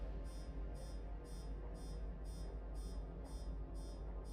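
An engineering terminal aboard a ship in Star Citizen gives off a steady, regular beeping, about two pulses per second, quiet and evenly spaced over a low constant hum.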